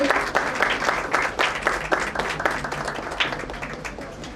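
Audience applause at an award ceremony in a hall: many hands clapping steadily for several seconds, fairly close and loud, tapering slightly toward the end.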